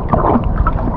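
A boat moves across water with a steady low rumble and lapping, splashing noise, close and continuous for about a second, with no voices.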